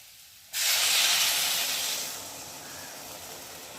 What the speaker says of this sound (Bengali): আর এখন আমি জল দিয়ে দেবো অল্প করে